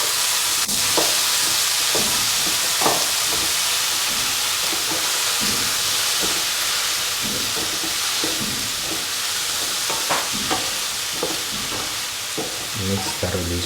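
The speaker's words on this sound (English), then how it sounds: "Mix thoroughly so that the mushroom pieces are nicely mixed with the" Mushroom pieces being stirred in a pot for a mushroom stew with ash gourd and coconut milk, with a steady sizzle of frying and repeated scraping of the spoon against the pot throughout.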